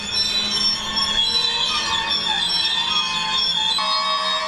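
A train passes close by with loud, sustained metallic wheel squeal that stays piercing throughout, shifting in pitch near the end over a steady rumble of the cars, with no talking.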